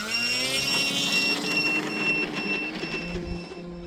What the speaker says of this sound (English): let's do a straight takeoff.